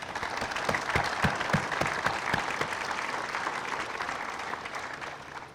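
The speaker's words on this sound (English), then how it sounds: "So would you please give all our state and local officials a round of applause." Applause from an audience at a ribbon-cutting ceremony for a grid storage facility, honoring state and local officials; a steady, dense wash of many hands clapping, fairly close and continuous, tapering slightly toward the end.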